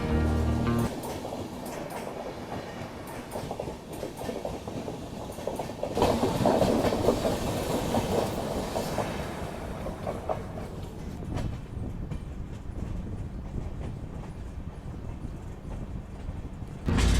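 The Ajmer Shatabdi Express running on rails, heard from inside the moving train as a continuous rumbling roll with rhythmic clickety-clack over rail joints, steady and close for the whole stretch, with no talk.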